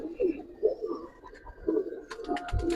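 Giribaz and coloured pigeons on a farm give repeated soft, throaty coos close by, in short irregular phrases, with brief rustling near the end.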